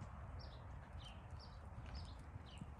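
Faint hoofbeats of a Tennessee Walking Horse gaiting on jumper footing in an arena, a soft, even clip-clop rhythm under a steady background hum, with occasional distant bird chirps.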